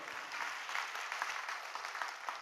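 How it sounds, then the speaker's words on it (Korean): A church congregation applauds after a sermon on the resurrection, a steady wash of close, continuous clapping with slight rhythmic surges, lasting the whole stretch without speech. "오늘 주님 앞에 오늘 기쁨의 감사의 박수 한번 올려드릴 거 아니겠어요?"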